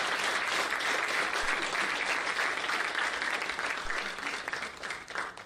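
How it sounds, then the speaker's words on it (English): Sustained crowd applause at a university convocation ceremony in Kolhapur honouring degree holders, a dense, steady wash of many hands clapping that holds throughout and thins slightly toward the end. "Let us once again give a round of applause to all the degree holders."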